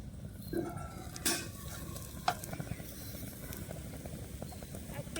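Cabbage and egg fritters sizzle softly on a hot griddle pan, a low steady frying hiss with a couple of brief clinks from a utensil, quiet throughout.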